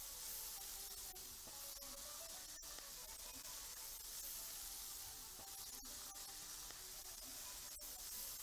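Steady, close sizzling and spitting of chicken frying in butter, with occasional sharp clicks and light clatter over the hiss.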